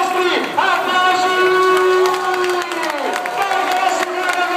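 Outdoor crowd lining a cycling race route in Borgo Valsugana cheers and claps for passing riders, a loud steady roar with whoops and tonal shouts layered over continuous clapping.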